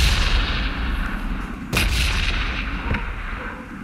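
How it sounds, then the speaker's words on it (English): Bombs going off in a video game bombing zone, a continuous heavy rumble of blasts with a sharper nearby explosion midway, loud and steady with no talking. "Now I'm gonna hide in here and hope don't get hit by the bomb."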